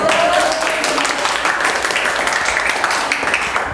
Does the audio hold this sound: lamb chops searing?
no